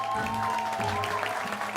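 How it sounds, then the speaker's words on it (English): Applause from a crowd at a Reverse: 1999 anniversary preview program, steady and fairly close, with a sustained musical tone ringing underneath throughout. "Bring on the applause."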